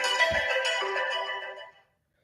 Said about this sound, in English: Sorry guys, I had the alarm set up.